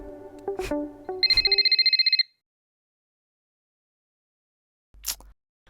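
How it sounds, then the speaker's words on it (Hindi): A phone ringtone trills in a fast repeating electronic burst for about a second, after some clatter and knocks; then silence with a brief thud near the end. "आपका फोन कितनी देर से बज रहा है"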